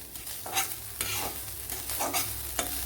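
Grated coconut frying in a pan for date laddu, a soft continuous sizzle broken by scraping stirs roughly every half second, close and alone.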